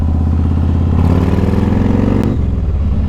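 Yamaha Road Star 1700cc cruiser motorcycle idling close by, a loud, deep, even engine thump with a slight rise in revs partway through.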